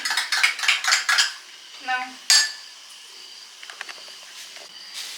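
Pots and metal utensils clatter in a home kitchen during cooking, a quick run of close scraping, clinking strikes followed by a sharp clank and sparser knocks.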